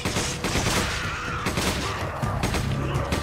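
Shotgun blasts in the Resident Evil 5 video game, a loud, dense volley of booming shots with scattered impacts filling the full short stretch, no talk over it.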